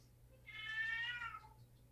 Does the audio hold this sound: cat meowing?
yes